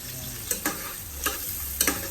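Onion and ginger sautéing in a pan for a mussel soup, with a low steady sizzle broken by a few brief stirring scrapes and clatters.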